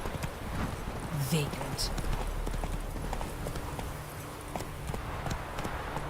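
Hooves pound in a fast gallop as Roach, the horse in The Witcher 3, runs under steady game ambience, and a brief spoken word and a short whinny-like cry rise above the hoofbeats.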